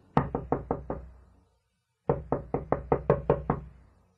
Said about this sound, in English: there was an urgent knock on my door